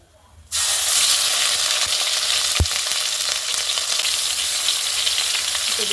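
Spice paste hits hot oil with a sudden loud sizzle, then a steady dense frying hiss carries on unbroken for several seconds, close and without talk, with one sharp clatter partway through.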